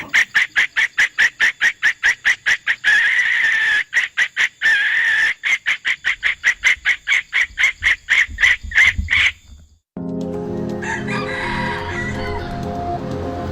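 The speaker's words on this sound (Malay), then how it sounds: "Ayam hutan merah Malaysia, Malaysian Red Jungle Fowl" A Malaysian red junglefowl crows repeatedly in rapid pulsing bursts, loud and close, followed by a sustained harmonic call at the end.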